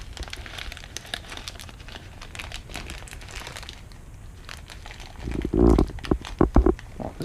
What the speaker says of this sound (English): So you need to take something to open that with. I'll just use my aquarium knife again right here.